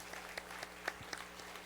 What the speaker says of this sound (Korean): 하나님께 우리 영광의 박수와 또 수고해 주신 분들 감사의 박수를 한번 올려드리도록 하겠습니다